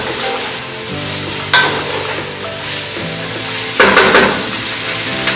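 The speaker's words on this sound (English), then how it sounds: "Take the spoon, just mix it around." Pasta stirred with a spoon in a hot pan: a loud, continuous sizzle with two bursts of scraping and clattering as the spoon moves, close and without speech.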